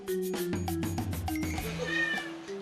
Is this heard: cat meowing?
yes